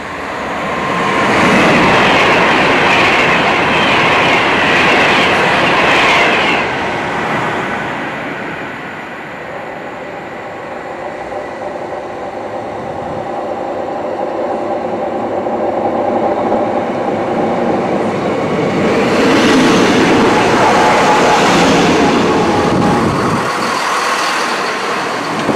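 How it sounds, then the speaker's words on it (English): A train rumbles into Cheddington station and rolls past close by, with a rising roar, screeching wheels and squealing brakes as it slows, continuous and loud throughout. "So here comes our train now."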